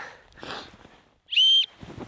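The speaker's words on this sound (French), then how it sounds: "Je viens d'entendre un coup de sifflette" A single sharp, high whistle blast, loud and steady for about a third of a second, during alpine ski touring, between stretches of faint rustling and movement.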